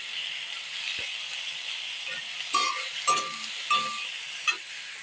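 Fried onions with chopped chili and ginger-garlic paste are stirred in a pan, a low steady sizzle broken by four or five sharp scraping clacks of a spatula.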